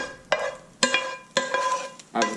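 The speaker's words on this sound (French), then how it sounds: "Et bien racler la poêle" A wooden spoon scrapes a frying pan in four distinct, close strokes, each a sharp scratchy drag against the metal with short pauses between.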